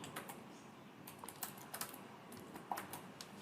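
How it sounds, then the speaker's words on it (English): Quiet typing on a computer keyboard while a server name is entered, with irregular soft key clicks spread across a few seconds and no voices. "I type the name"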